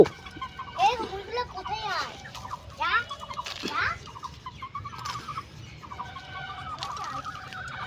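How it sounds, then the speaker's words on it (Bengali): Two loose chickens cluck and squawk at a Bengali household, with repeated rising calls close by over a steady background hum and occasional voices. "আর দেখতে পাচ্ছি মুরগি কিন্তু ছেড়ে দিয়েছি, 2টো মুরগি ছেড়ে দিয়েছি।"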